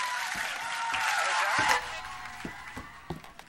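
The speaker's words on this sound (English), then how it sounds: "A round of applause." An audience applauds in a dense burst that fades off after about a second and a half, leaving a few scattered claps and small knocks.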